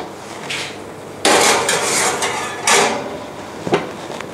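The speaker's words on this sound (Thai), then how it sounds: "ใส่เตาอบเลยค่ะ" Metal pan clatter and an oven door clunk as a corn pie goes into the oven, with a loud bang, rattling and a few sharp knocks up close.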